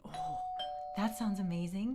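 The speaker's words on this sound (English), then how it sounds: "Oh, the doorbell." A doorbell chime rings with a steady, sustained tone near the start, and a voice then begins talking over its fading ring.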